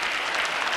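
Audience applause at a live stage comedy show, a dense, steady wash of clapping that holds at an even level for its whole brief span.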